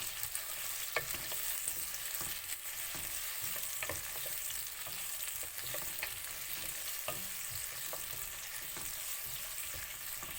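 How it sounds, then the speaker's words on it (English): Two large sliced red onions fry in a pan, giving a continuous close sizzle broken by frequent light clicks and spatters from stirring, with no talking. "now I'm adding 2 big sliced onion. Here I'm using red onion."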